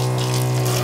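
Spray from a long shower head in a custom Dodge Ram Promaster camper van, a steady close hiss of water over a constant pump hum, brief and without talk.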